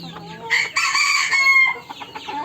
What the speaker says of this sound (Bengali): এক piece mail মটলেট Cochin original running ডিম দিচ্ছে